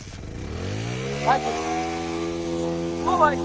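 A Bajaj Pulsar motorcycle pulls away nearby, its engine pitch climbing smoothly and then settling into a steady mid-pitched hum with a couple of short blips.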